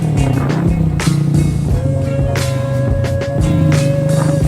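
An Astrea Dream motorcycle on a slow test ride, its engine droning steadily up close with a low rumble and shifting whine, occasional revs rising and falling throughout.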